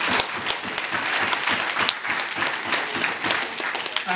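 Audience applause fills a retirement celebration for a school leader, a dense, steady clapping from a sizable crowd sustained throughout at even loudness.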